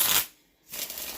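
Tarot cards shuffled by hand, a dense papery riffle that fills the start, drops to near silence for a moment, then resumes steadily, close and fairly loud with no talking.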